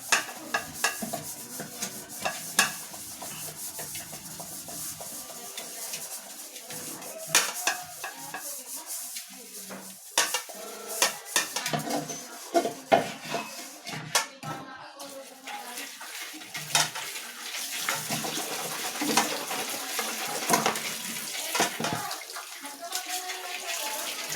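A wok (kawali) that had been stored outside being scrubbed and washed under running water, with splashing, scraping and clatter in irregular bursts, and a voice talking at times.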